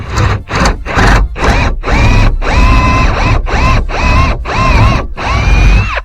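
A power drill bores holes while trickle vents are fitted into a window frame, the bit running in about nine short, close bursts, each a loud rising whine with brief pauses between.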